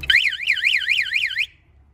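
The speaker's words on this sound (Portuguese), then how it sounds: "Vamos ver se desliga o alarme." An auction-bought car's alarm wails in a rapid up-and-down warble for about a second and a half, loud and close, then cuts off.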